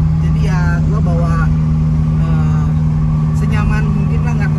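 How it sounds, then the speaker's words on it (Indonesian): A lowered 1991 BMW E30 with the M40 engine cruises at 100 km/h on a toll road, giving a constant droning hum and road roar from inside the cabin while someone talks over it. "Ini gua bawa mobil ini di kecepatan nggak cepet-cepet sih, cuman ya di 100 km aja men."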